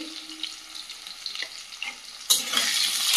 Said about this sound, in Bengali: খুব বেশি ভাজবো না, হালকা ভেজে নেব